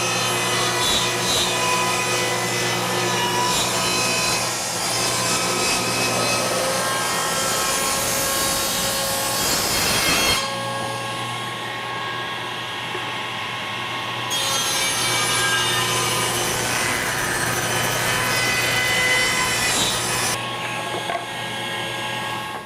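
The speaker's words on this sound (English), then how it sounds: "I'm going to make my cut all the way through it, and then I'm going to flip my stock end for end to finish the cut." A table saw cuts through wood stock for boxmaking in two long, loud passes, a steady whine with a brief quieter pause between cuts and no talking.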